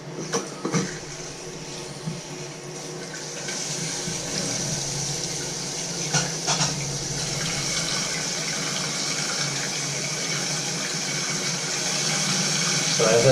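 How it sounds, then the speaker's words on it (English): Water rushing into a toilet tank as the supply is turned back on during a leaking-toilet repair, a steady hiss that swells toward the end, with a few brief knocks and some talk. "So I can go ahead and turn the water back on now."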